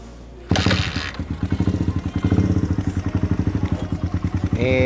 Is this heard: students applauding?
no